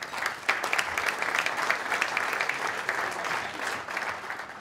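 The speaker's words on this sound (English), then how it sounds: "give yourself a round of applause" A gala audience applauds at an anniversary celebration, a dense, even patter of many hands sustained for several seconds at moderate distance.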